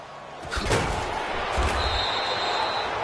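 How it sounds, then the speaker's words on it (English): A punt in an American football video game, a single dull thump near the start followed by a brief second knock, over steady crowd ambience. "He's averaging just under 50 yards a punt as he gets this away."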